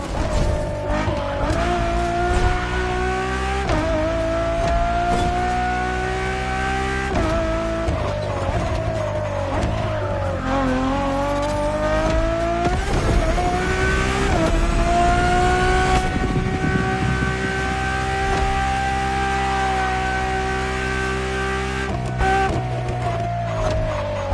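A Ferrari road-legal Formula One style supercar drives hard, its engine rising and falling through several gear changes with sustained high revs and a steady loud roar, accompanied by faint tire squeal and no speech.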